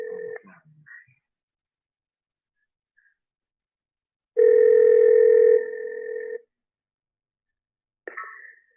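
Ringback tones on an outgoing telephone call, two long steady electronic rings separated by silence, with a short tone fragment at the start and another at the end, clear and close with no talk.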